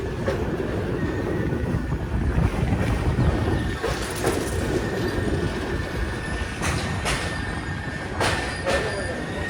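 Kochuveli to Korba superfast express train running, a steady broadband rumble of wheels on rail with occasional clatter and brief high squeals, heard from inside the carriage throughout.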